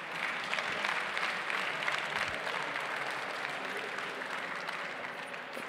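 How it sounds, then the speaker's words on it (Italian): Steady audience applause fills an awards ceremony on a conference main stage, a dense, even wash of clapping that holds at a moderate level from start to finish without any voice standing out. "allora un applauso"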